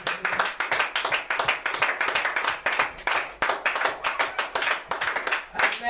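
Church congregation clapping in steady rhythmic unison during a French-language service, loud and close, continuous for several seconds with no speech over it.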